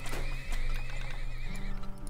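A horse neighs in the video game Turmoil with a long wavering whinny and faint clip-clop hoofbeats beneath it, over a steady game background hum.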